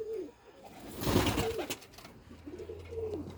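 Pigeons kept by a Faisalabad fancier coo in soft, rolling bursts, a couple of low throaty calls near the start and again toward the end, with a brief rustle or flap of wings in the middle.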